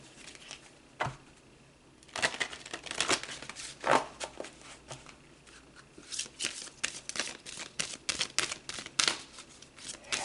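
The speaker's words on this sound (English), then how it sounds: "Let's pull some more cards." Oracle cards shuffled and pulled: bursts of riffling and flicking card sounds that come in uneven clusters, close and fairly loud, with short pauses between them.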